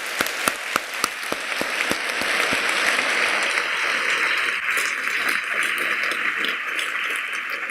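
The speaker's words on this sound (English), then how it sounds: "I just want another round of applause for the staff of the Barclay and UCI." Applause at a Supreme Court term review panel event begins with a few separate, sharp claps that quickly swell into steady, full audience clapping that carries on to the end.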